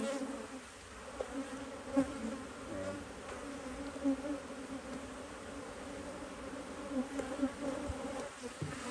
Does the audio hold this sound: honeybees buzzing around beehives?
yes